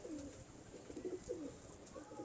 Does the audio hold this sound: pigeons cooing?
yes